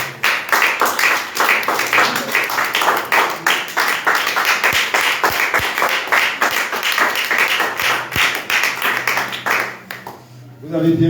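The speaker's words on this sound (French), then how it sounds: "Est-ce qu'on peut acclamer le Seigneur?" A church congregation applauds, a steady, dense roar of many hands clapping together at close range that fades out near the end.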